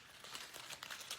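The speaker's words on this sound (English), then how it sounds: "take a blank piece of paper and just crumple it into a ball" Blank sheet of paper crumpled into a ball by hand, a brief, faint crinkling burst of close crackles with no speech.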